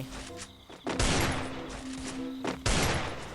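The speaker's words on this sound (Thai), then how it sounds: "เดี๋ยวสับปืนยิงให้ดูก่อนว่าเราจะพิ้วแค่ไหน" Gunfire in the mobile shooter game Free Fire, with dense, loud bursts of shots arriving in two heavy volleys over a steady background tone.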